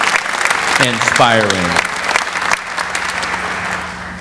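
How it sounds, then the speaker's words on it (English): Loud crowd applause at a Hampton University Founders Day ceremony for Dr. Freeman Hrabowski III, filling the hall as a speaker's voice briefly rises over it. "let's give Dr. Freeman Hrabowski III one more round of applause"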